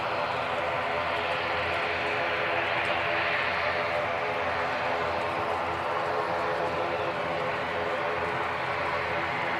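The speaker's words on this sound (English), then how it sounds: "NZ5705 ATR heading out on its way down to Invercargill." An ATR turboprop departing Christchurch Airport, New Zealand, in strong gusty wind: a steady, loud broadband roar that holds for the whole stretch, heavy with wind noise, with no voices.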